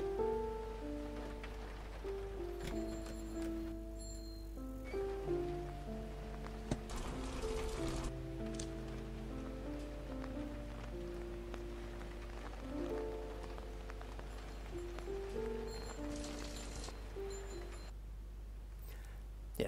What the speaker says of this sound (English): has to use this umbrella to protect against rain and not get splashed